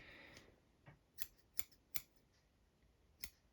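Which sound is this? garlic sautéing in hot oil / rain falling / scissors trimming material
scissors trimming material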